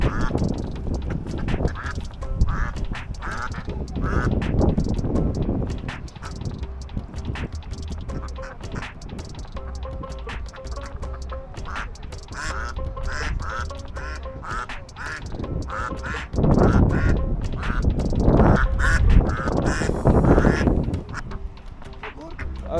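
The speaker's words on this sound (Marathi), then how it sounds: "मला बदकं जरा जवळून दाखवावे" A flock of ducks and geese quacks and honks close by, with dense overlapping calls in bursts that keep going for the whole stretch, in an outdoor setting with wind noise.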